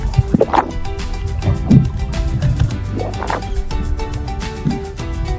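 Underwater ambience in the sea off Coron, Palawan, full of close bubbling, gurgling and dripping water sounds with soft muffled rumbles throughout.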